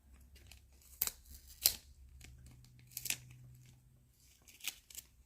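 A piece of sticky tape ripped up during a sun catcher craft, heard as several short, sharp tearing and crinkling bursts close by, separated by quiet pauses.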